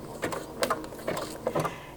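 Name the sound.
sewing machine stitching blanket stitch on fabric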